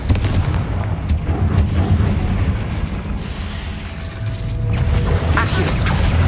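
Booming blast effects from the Confringo spell in Hogwarts Legacy, loud and sustained with rumbling explosive bursts and a brighter crackling flare near the end.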